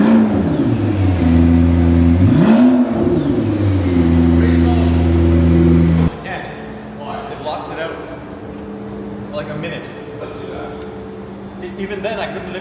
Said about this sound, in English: Obviously you can hear the P1 revving in the back.